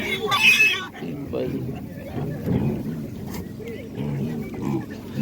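Piglets grunting and squealing close by at a village animal market, low snorts mixed with a sharp high squeal, under people talking in the background.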